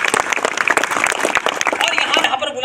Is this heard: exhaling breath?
no